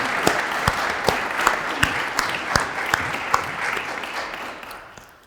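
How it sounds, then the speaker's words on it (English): A small crowd claps steadily for several seconds at a groundbreaking ceremony for a nursing school building, the sharp claps thinning out and fading toward the end. "let's give these folks a round of applause"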